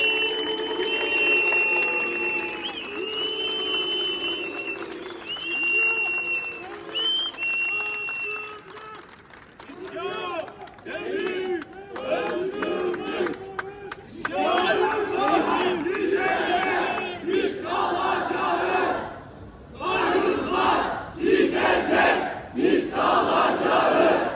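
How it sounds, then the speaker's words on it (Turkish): Street protest crowd in Ankara against a trustee appointment, with dense applause, piercing whistles and shrill ululation swelling in waves; early on a voice chants or calls over the crowd before the noise builds and stays loud and sustained. "Bu darbeleri burada bir kez daha saray doyacak bir şekilde alkışlarımızla, ıslıklarımızla, zılgıtlarımızla protesto ediyoruz arkadaşlar."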